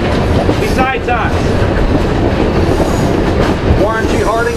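A Pennsylvania excursion train in Tioga County rolls along the rails, its loud rumble steady and close with clattering wheels and brief squeals of metal, while voices talk faintly in the background.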